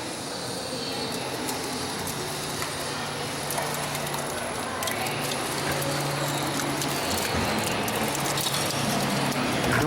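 A screw press runs with cottonseed hulls primed inside, grinding and clattering in a dense, continuous mechanical rumble with ratcheting ticks, loud and steady throughout.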